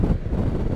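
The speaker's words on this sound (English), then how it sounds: "Blimey, it is windy." Strong wind at the Great Yarmouth seafront buffets the microphone with a loud, continuous low rumble, no voices.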